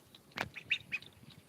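A few faint, scattered quacks and squawks from ducks, heard at a distance over quiet background noise.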